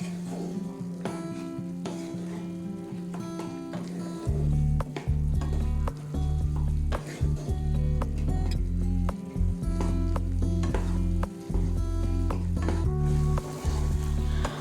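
Chickpeas for chana masala sizzle in a pan while being stirred, a steady frying hiss broken by repeated scraping and clattering stir strokes, close and fairly loud, no speech.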